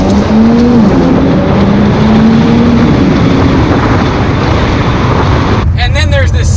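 A 2019 Ford GT's engine and induction noise while driving, a loud, steady droning growl under wind rush that shifts pitch once before cutting to quieter road noise, with someone talking over it.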